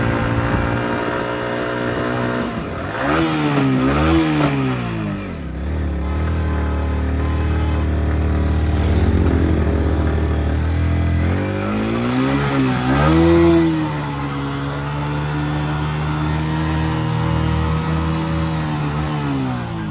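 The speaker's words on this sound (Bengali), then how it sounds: "পাহাড়ের সবচেয়ে বড় আফিলে ওঠার সময় বাইকে 1 গিয়ার থেকে 2 গিয়ার যাওয়ার সময় হঠাৎ করে নিউট্রাল হয়ে যায়।" A motorbike labours up a steep hill road in the mountains, its engine revving loudly and close, pitch sweeping up and down with gear changes and a brief slip into neutral.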